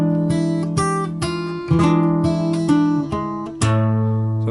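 Fingerstyle guitar picking out The Godfather theme, with a steady bass line under a plucked melody and slow, even phrases ringing out alone.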